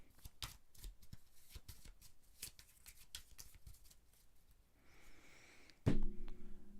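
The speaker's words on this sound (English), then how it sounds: "These ones get shuffled back in." A deck from Dark Souls: The Card Game being shuffled, a quick run of crisp papery snaps and riffles, fairly close and quiet, ending with a louder thump.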